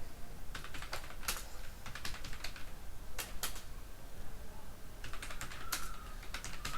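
Data entry typed on a computer keyboard, with bursts of rapid, light key clicks separated by brief pauses, close by over a steady background hiss.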